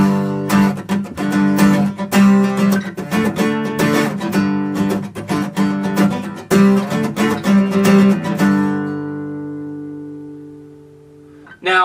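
Electric guitar power chords driven by a rhythmic strumming pattern: rapid, choppy strokes with muted scratches between chord hits for about nine seconds, then a final chord left to ring out, close and loud.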